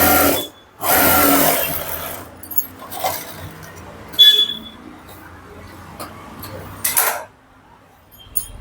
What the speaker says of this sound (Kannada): ಈಗ ಇದನ್ನ ಟರ್ನ್ ಮಾಡಿ ಎಡ್ಜ್ ಸ್ಟಿಚ್ ಹಾಕೊಳ್ಳೋಣ.